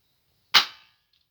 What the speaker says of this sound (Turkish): Şimdi şuraya vuracağız. Ta bu duvara.